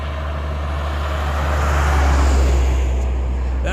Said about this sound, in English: That was a V-22 Osprey just taking off.